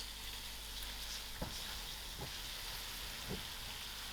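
Soya mince with potatoes frying in masala in a pan, giving a steady close hiss and sizzle with a few faint stirring knocks and no voices.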